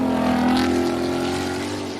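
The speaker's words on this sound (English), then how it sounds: "Aston Valkyrie going out there." An Aston Martin Valkyrie supercar drives out at the Goodwood Festival of Speed, its engine a loud, steady droning note that holds level, then eases off slightly.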